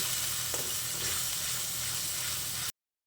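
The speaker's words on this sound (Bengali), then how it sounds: "এবার আমি অল্প অল্প জল দিয়ে দিয়ে মশলাটাকে খুব ভালো করে আবারও কষিয়ে নেব" Spice paste for an egg curry fries in a pan with a little water added, giving a steady, close, broadband sizzle and hiss that runs unbroken before cutting abruptly to silence near the end.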